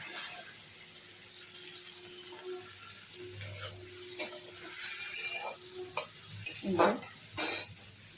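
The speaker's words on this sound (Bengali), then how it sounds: "প্রথমে আমি চিংড়ি মাছগুলো ভেজে নেব।" Shrimp being fried in a pan, a soft steady sizzle with stirring clatter and scraping that grows busier toward the end, with a low hum in the background.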